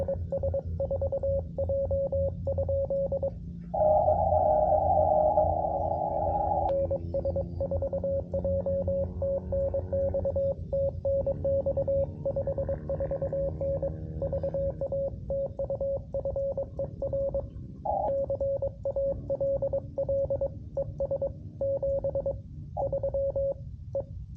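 Steady Morse code tones on 10 meters from a QRP Labs QMX radio, keyed in rhythmic bursts over a constant hiss, with other faint overlapping signals and QRM interference throughout.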